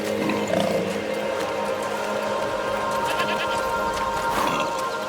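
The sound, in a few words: goats bleating in a video game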